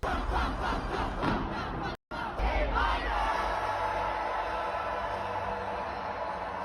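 A large crowd sings along loudly from the high nosebleed seats at a concert in Houston. The dense roar is continuous, with one brief dropout.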